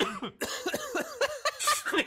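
A person coughs close up, a few rough bursts that break into short, laughing-sounding voiced gasps.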